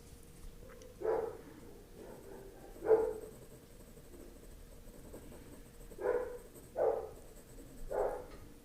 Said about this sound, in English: That is quite a lot of barking.